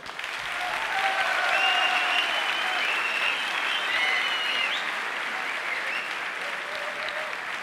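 Sustained crowd applause fills an MMA event hall, a loud, even roar of clapping that swells early and holds steady, with faint voices mixed in.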